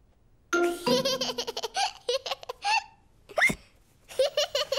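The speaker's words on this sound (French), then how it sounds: "Georges a bu son jus de fruits trop vite et maintenant, il a le hoquet." Cartoon character hiccuping after drinking fruit juice too fast, a series of sharp squeaky vocal hics and giggly bursts, fairly loud and close, with brief pauses between them.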